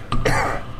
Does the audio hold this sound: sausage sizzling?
no